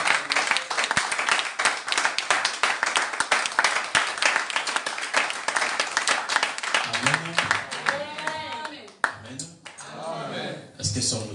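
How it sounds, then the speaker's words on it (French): A church congregation bursts into sustained applause, dense clapping from many hands filling the room, with a few voices and cheers rising near the end. "Nous acclamons pour la gloire de Dieu."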